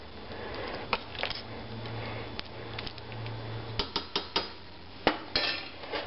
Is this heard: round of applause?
no